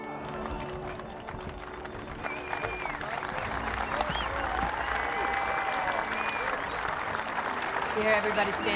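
A stadium crowd at a pole vault competition applauds and cheers Charlotte Brown's jump, a broad roar of clapping that swells and holds, with a few shouts and whistles rising above it.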